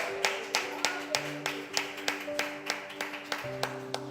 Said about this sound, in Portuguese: Glorifica Jesus com a aplauso,